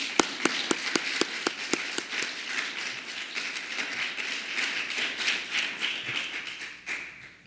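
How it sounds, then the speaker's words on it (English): An audience at a primary election debate applauds the candidates: a few sharp early claps swell into steady, dense clapping that holds throughout and eases off at the very end. "Let's give the candidates a round of applause."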